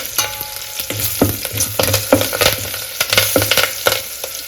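Turmeric goes into a tempering of curry leaves and asafoetida in hot oil, a close, steady sizzle and crackle with stirring scrapes throughout and no talk.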